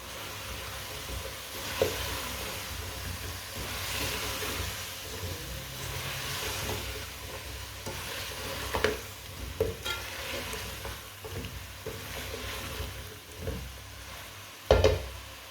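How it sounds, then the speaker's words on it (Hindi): Cauliflower sizzles in hot oil in a pan for aloo gobhi, a steady frying hiss broken by scraping, clattering stirs with a spoon, including a sharp knock near the end; no voices. "गोभी डाल लेंगे, अच्छी तरह मिक्स कर लेंगे।"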